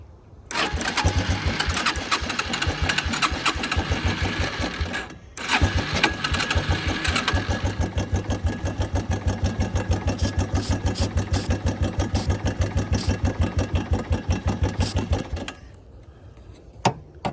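A Suzuki Quadrunner ATV engine runs close by with a rapid, steady putter. It cuts out briefly, restarts and keeps chugging evenly before dropping off near the end.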